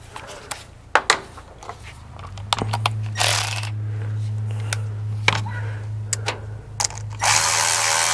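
A ratchet clicks in short bursts, tightening a clamp on an air intake boot at the turbo of a first-generation Cummins diesel, with a steady low hum underneath and a brief hiss near the end.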